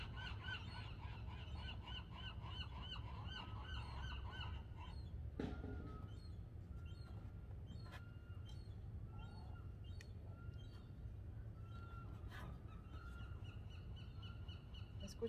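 Gulls cry out at the seashore in a run of repeated squawks over a constant rumble of waves, the calls fairly close and clear, with no talking.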